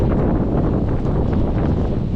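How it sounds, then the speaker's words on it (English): Strong Category 10 typhoon wind in Taipa, Macau, buffets the microphone in a steady, roaring rush with low rumbling gusts, loud and close throughout. "Now it's getting windy again."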